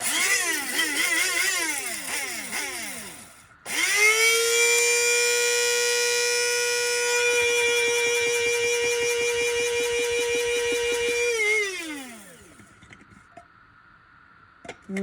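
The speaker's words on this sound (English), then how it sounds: "I'm going to grind this up and I'll show you the powder" An electric grinder whirs loudly as it pulverizes an ingredient into powder, with a couple of short pulses and then a long steady high whine that winds down at the end, with no talking.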